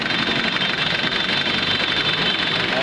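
A freshly overhauled car engine runs at a steady idle with a constant, even drone and slight rhythmic knock, heard close up and alone.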